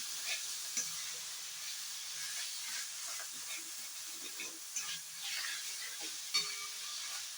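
A chhana (cottage cheese) mixture with coriander leaves is stirred in a pan, giving a soft, steady hiss and scrape with faint clinks, quiet and close with no talk.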